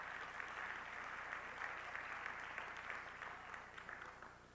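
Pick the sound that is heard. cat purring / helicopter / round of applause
round of applause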